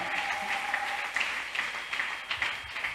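Congregation applauding inside a church during a worship camp service, steady continuous clapping with a faint sustained tone behind it.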